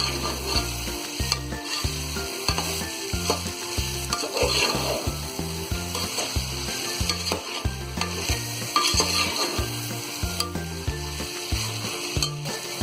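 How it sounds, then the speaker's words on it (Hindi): Fried soya chunks and spices sizzle steadily in a pan while being stirred, with repeated scraping strokes and a continuous close frying hiss throughout. "अब हम डाल देंगे इसमें ये फ्राई की हुई बड़ी और 1 से 2 मिनट और हम इसे भून लेंगे"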